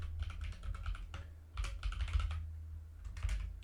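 Computer keyboard typing in two quick bursts separated by brief pauses, close and clear over a low steady hum, with no voices.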